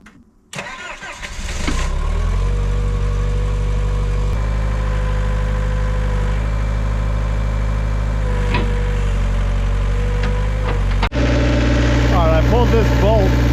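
A Hitachi excavator engine cranking on a 24-volt jump start, catching after a few seconds, then settling into a loud, steady, close diesel idle with a brief dip near the end.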